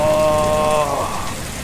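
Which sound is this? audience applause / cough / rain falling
rain falling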